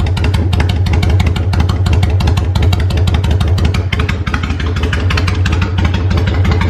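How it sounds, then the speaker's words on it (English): A Kawasaki Vulcan motorcycle engine idling after an oil change, a loud steady rapid pulsing throb through the pipes with mechanical clatter, close and continuous with no talking. "I'm going to turn this bike on and let it run for a little bit"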